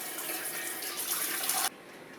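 A kitchen tap runs warm water for sourdough bread-making, a steady close hiss of flowing water that cuts off sharply near the end, leaving faint room tone.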